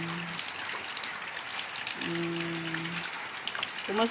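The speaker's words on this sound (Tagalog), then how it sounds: "pumapatak na naman ang ulan sa bubong ng bahay" Steady rain patters on the roof of a house in Bulacan, a soft continuous hiss of drops that holds at an even, moderate level through the whole stretch, with a few brief tonal sounds in the background.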